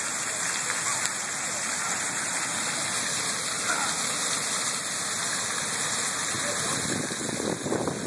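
Water pours steadily into a drain where it escapes, a continuous splashing rush close by, with faint voices in the background.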